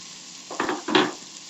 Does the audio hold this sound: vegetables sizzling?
yes